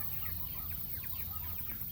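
Chickens cluck softly in the background, a scattering of faint, short clucks over a steady low hum and hiss.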